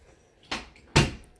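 A cat bumps a door shut: two close, sharp knocks of wood about half a second apart, the second louder, in a quiet room.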